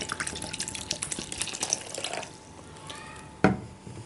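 Water is poured into a bowl of soaked dates as part of a nabeez preparation, a trickling, splashing flow with a brief louder splash near the end, close and unaccompanied by talk.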